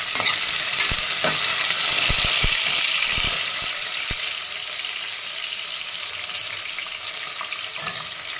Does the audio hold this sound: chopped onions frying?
yes